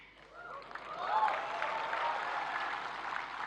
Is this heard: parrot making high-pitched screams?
no